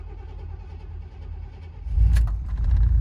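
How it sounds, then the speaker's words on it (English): A 1989 GMC farm truck cranks and its engine catches, settling into a low, rough idle that grows louder and stays running close by. "So I'll move the old farm truck. It's an 89 GMC."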